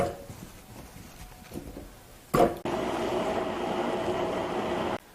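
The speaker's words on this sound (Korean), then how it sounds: "배하고 무를 믹서기에 갈아줘요." A kitchen blender grinds chunks of pear and Korean radish for kimchi seasoning, starting abruptly after a brief clunk and then roaring loudly and steadily for about two seconds before cutting off sharply.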